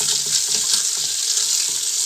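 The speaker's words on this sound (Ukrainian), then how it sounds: "Набираємо ось таким чином гарячої води і опускаємо туди пляшки" Hot water pouring into a container that bottles are being lowered into, a loud close hiss of running water with a fizzing, splashing texture that continues steadily and stands alone without talk.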